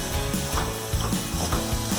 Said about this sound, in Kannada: ಇವಾಗ ನಾವು ಗ್ಯಾಸ್ ಆಫ್ ಮಾಡ್ಕೊಳ್ಳೋಣ.